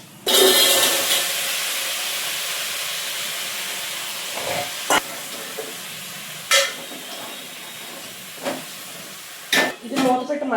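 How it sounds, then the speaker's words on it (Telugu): Vegetables tipped into a hot pot of fried tempering for mutton dalcha, giving a loud steady hiss and sizzle that fades slightly, with brief clanks and stirring knocks near the end. "ఇప్పుడైతే ఈ వెజిటేబుల్స్ అన్నీ వేసేస్తున్నాను"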